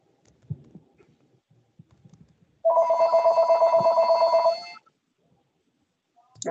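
A telephone rings in the background of a school building committee meeting: one steady buzzing bell burst of about two seconds, fairly loud and clear, with faint shuffling and murmurs before and after.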